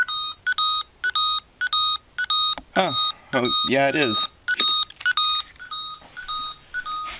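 Repeated electronic beeping tones pulse in short rhythmic bursts from a Power Rangers Lost Galaxy toy morpher, close and steady, while a voice speaks briefly over them.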